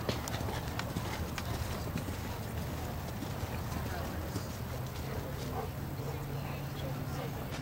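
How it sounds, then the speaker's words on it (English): Horse hooves at a working canter in an equitation challenge, a steady rhythmic clip-clop that runs throughout over dense outdoor noise, with a person speaking over it. "We're at a working canter now."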